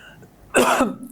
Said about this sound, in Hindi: सबको ही खांसी आने लगी, मुझे भी आने लगी